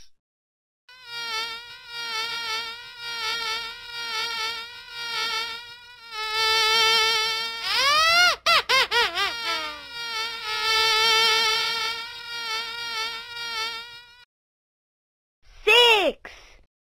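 A cartoonish bee buzzing sound repeats in short rhythmic bursts during a children's counting game, rising and falling, with a louder swooping buzz in the middle and a final burst after a pause.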